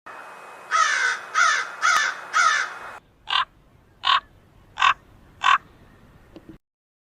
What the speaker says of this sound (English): Ravens, however, have a much deeper and rougher call, a sort of croak